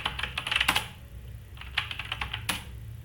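Rapid clicking of computer keyboard keys as Python commands are entered at a command prompt, coming in quick bursts with short pauses between them, close and clear.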